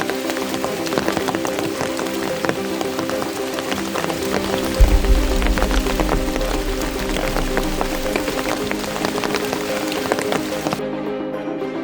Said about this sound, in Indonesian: tidak lama kemudian hujan pun turun